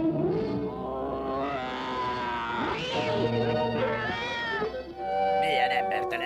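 Kittens meow in a Popeye cartoon, high mewing cries rising and falling over busy music and voices, with a louder cluster of cries near the end.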